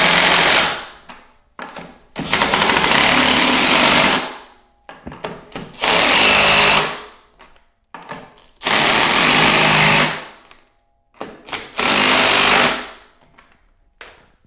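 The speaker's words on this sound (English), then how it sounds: "I'm just going to go through and tighten each of the five." Power tool tightening the five wheel bolts on a Baja Wrangler 2 mini bike, loud close bursts of whirring and hammering in four separate runs of about two seconds each, with quiet gaps between.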